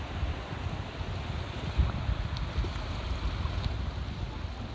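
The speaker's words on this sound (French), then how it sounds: "Il y a un petit vent force 4-5" Steady force 4-5 wind rumbling and buffeting outdoors in Neuchâtel, a continuous low roar with faint gusts and no voices.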